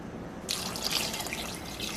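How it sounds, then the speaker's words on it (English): Water poured into a pot of homemade beef soup (sopa de carne de res) with potatoes and onions, a steady splashing pour that starts after a brief quiet moment and runs on close and continuous. "And then we're gonna add some extra water."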